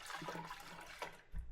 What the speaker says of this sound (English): Give it a nice swirl.